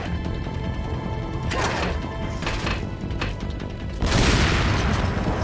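Gunfire in Resident Evil 4 Separate Ways, played as Ada in chapter 5: several loud, sharp shots and booming bursts spaced a second or so apart, with one heavier blast near the end.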